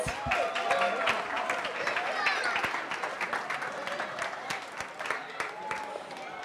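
An audience applauds first graders at an Orthodox church gathering, and the steady clapping carries on across the whole stretch with a few murmuring voices mixed in.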